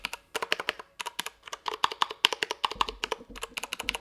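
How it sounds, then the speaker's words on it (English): Close, quiet typing on a Ducky Varmilo MIYA Pro Flare Star mechanical keyboard with unlubed Cherry MX Brown switches and a solid metal case, producing irregular bursts of crisp clacks that pause briefly between runs of keystrokes. "So it sounds pretty good for Cherry MX Browns."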